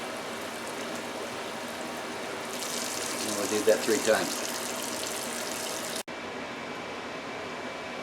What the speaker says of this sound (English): put more water in it, more cold water